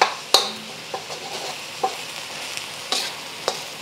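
Ground pork stirred and frying in a pan over high heat, with scattered sharp scrapes and clicks of a utensil over a faint, steady sizzle; no voices.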